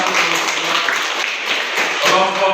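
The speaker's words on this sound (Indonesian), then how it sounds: "Oke, tepuk tangan." Classroom group applause after a religion lesson answer, a steady wash of many hands clapping for a couple of seconds with some faint voices mixed in.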